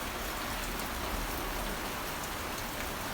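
Steady rain falls close by, a dense, even hiss of drops on surfaces that carries on without a break.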